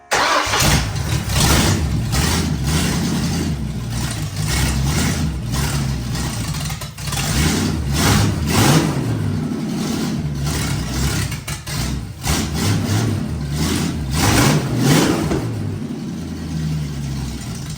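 A Ford 351 V8 in a Toyota AE86 runs on its first start: a loud, close, rumbling idle with repeated throttle blips and revs and a brief dip around the middle.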